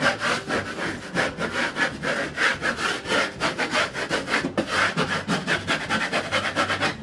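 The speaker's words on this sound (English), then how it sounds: "use the squeegee and press the vinyl on the wall that way" A squeegee presses a vinyl wall decal onto a wall in rapid, rhythmic scraping strokes, a close and steady rubbing of many passes in a row with no voices.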